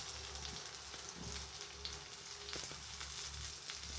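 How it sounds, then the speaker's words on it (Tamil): Onions, garlic and curry leaves fry quietly in a pan for a squid curry, a soft, even sizzle with scattered stirring clicks over a low hum. "கொஞ்சம் கிளறி விடுவோம். வதங்கட்டுக்கும்."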